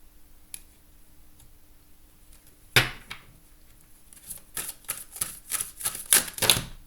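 Tarot cards being cut and shuffled: a soft single snap, then a run of rapid papery riffles and clicks building toward the end, close and fairly quiet, with no talking.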